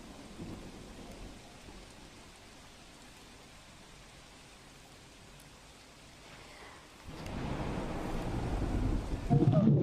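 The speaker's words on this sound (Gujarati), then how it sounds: "કલ્યાણપુર પંથકમાં ભારે વરસાદ" Heavy monsoon rain in Kalyanpur, Devbhumi Dwarka, Gujarat, pours steadily at a distance, then swells much louder and closer near the end, with a low thundery rumble beneath.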